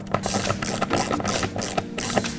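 A ratchet wrench tightens bolts through holes in the plastic drum of an Electrolux-type washing machine during a bearing replacement, giving rapid, repeated clicking bursts in an uneven rhythm, close and fairly loud.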